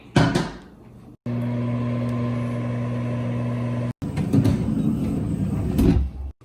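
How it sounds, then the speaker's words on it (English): A microwave oven hums steadily for a few seconds, bracketed by clunks of its door opening and closing. "Microwave for 1 minute."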